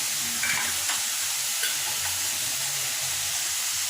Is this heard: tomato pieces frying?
yes